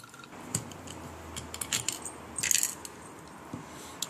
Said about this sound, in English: And now we need to take out these 3 screws